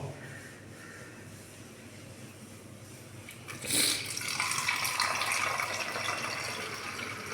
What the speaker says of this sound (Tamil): நம்ம அதை பாட்டிலில் ஊற்றி சேமித்து வச்சிடுறோம்